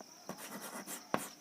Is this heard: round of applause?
no